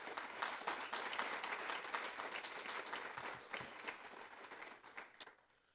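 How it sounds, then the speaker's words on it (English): An audience at a spring convocation gives a round of applause, a large crowd clapping steadily and fairly distant, tapering off to quiet near the end. "Would you please give them a round of applause"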